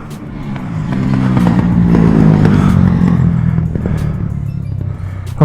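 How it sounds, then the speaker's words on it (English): A dirt bike passes nearby outdoors, its engine swelling loud and rough for a few seconds before easing off slightly. "someone's riding their dirt bike."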